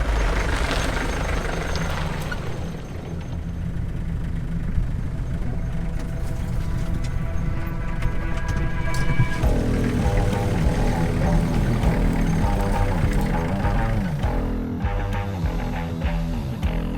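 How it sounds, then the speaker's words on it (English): Truck driven on an abandoned farm down toward the raised beds: a loud, close engine drone runs throughout, shifting pitch as it revs and changes gear, with a faint hiss near the start and no talking. "I thought I'd take the truck down to the raised beds"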